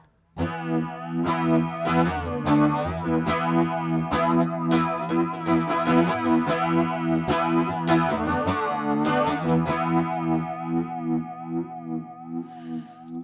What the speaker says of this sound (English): you can start to hear the more flanger typical sound